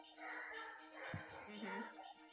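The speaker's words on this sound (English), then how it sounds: "I hear dogs." Dogs at play yip and bark faintly a few times in the background of a quiet room, muffled and distant.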